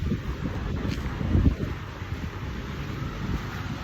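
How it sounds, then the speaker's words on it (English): Steady wind on Isla de la Piedra, Mazatlán, rumbles and buffets against the microphone, a low, continuous roar with a stronger gust near the start. "It's windy, it's a little cold."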